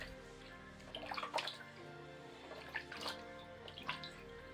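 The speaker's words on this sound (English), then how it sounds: "Next, rinse your feet" Water sloshes and splashes faintly as feet are rinsed in a foot bath, with a few soft clusters of splashing over a quiet background.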